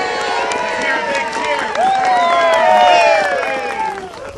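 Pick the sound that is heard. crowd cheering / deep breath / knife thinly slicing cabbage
crowd cheering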